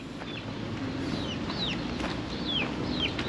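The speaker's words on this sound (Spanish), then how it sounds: "Yep, chickens everywhere." Roosters and hens clucking and calling on a Mazatlán island, with several short, rising squawks repeating every half second or so over a steady outdoor background hum.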